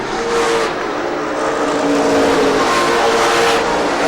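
Stock cars racing at Rockford Speedway in 1994, a continuous loud roar of several engines filling the track with steady, dense noise and no break.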